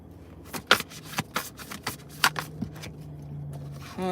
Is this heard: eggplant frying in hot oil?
no